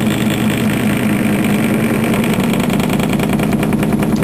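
A magnet motor flywheel generator with its magnets set close together runs loudly and steadily, giving a continuous dense mechanical hum and rattle with a pulsing, throbbing texture that shifts slightly toward the end.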